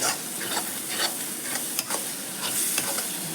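Raw ground pepper masala for crab gravy sautés in a hot pan, a loud, continuous sizzle broken by quick scraping stir strokes, with no voices.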